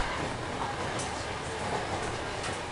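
Train rolling into its stop in the Higurashi game: a steady, close rumbling roar of carriages and wheels on rails, continuous at moderate level throughout.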